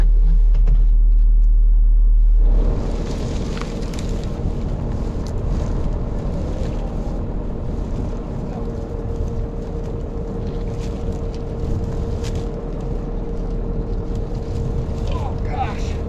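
A skid loader works in a field moving heavy trees: a steady, loud engine rumble with low droning tones, constant throughout, after a brief windy opening.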